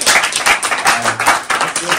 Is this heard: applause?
yes